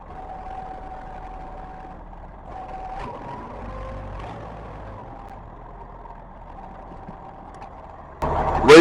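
Big truck engine idling steadily at low volume while the air-operated dump bed is let down, ending in a sudden louder burst of air or engine noise.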